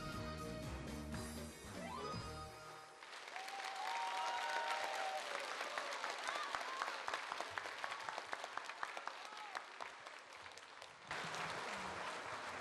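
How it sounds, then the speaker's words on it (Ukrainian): A hall audience gives a standing ovation, sustained dense applause that swells after music fades and continues steadily, with a few voices and a brief musical passage at the start and near the end. "Після їх виступу зал аплодував стоячи."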